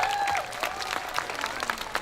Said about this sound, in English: I want you to start off by giving yourselves a round of applause.